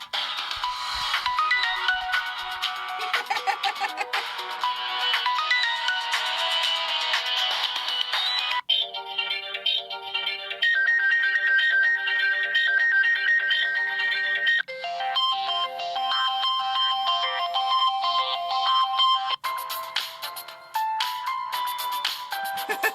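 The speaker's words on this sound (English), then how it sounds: "Let's hear some classic ringtones." Classic Samsung phone ringtones play one after another, bright electronic melodies and tones changing every few seconds, loud and continuous with no talking.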